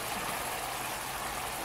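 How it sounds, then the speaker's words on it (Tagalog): Soy sauce pours onto chicken gizzard in a pan for adobo, a steady close sizzling, trickling wash that runs evenly throughout with no talk. "lalagyan na natin siya ngayon ng toyo"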